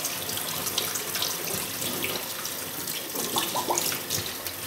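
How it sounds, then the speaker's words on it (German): Cold tap water runs steadily into a sink while leek leaves are rinsed under it, a continuous close splashing hiss with small irregular spatters. "und spüle unter kaltem Wasser die Blätter durch."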